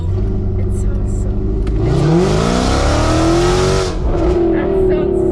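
Mercedes-AMG car with a raspy, loud exhaust revs nearby, the engine sweeping up to a high snarling pitch and holding before dropping and climbing again, with voices talking alongside.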